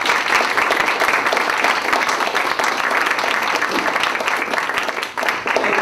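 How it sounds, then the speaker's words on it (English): Lecture audience applauding after a talk on traditional Chinese herbal medicine and Western biotechnology, steady dense clapping filling the room for several seconds before tapering off near the end. "So when you give your applause, it's not just for me, but it's for these folks as well."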